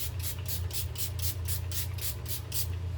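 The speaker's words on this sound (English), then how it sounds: "I take my Rose Facial Toner Spray and I spray that over top of it" Rose facial toner spray hisses from a pump bottle in about eleven quick, evenly spaced misting bursts, close and steady over a low constant hum.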